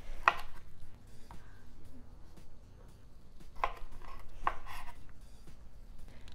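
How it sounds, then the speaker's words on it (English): Half of a 14-ounce smoked sausage being chopped on a cutting board, a few sharp knife strikes spaced apart, close and fairly quiet over a soft background hum. "I'm just gonna use half of it and I'm gonna chop it."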